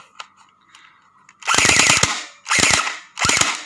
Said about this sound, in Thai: ผมจะลองยิงดู